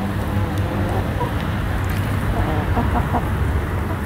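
Chickens on a farm on Long Island cluck steadily in short, repeated bursts at close range, with a faint murmur of voices underneath.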